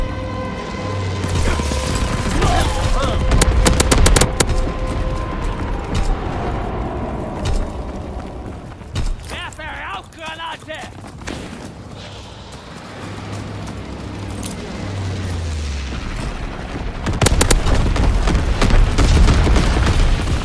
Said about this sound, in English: Low altitude bombing run inbound